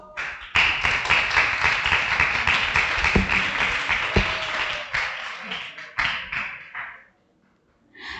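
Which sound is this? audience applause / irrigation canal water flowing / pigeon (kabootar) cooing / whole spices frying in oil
audience applause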